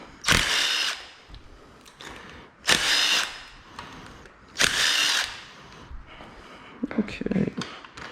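A pneumatic impact gun removes bolts during a BMW M50 engine teardown, firing three loud, close bursts about two seconds apart, with quieter tool clatter and handling noise between them.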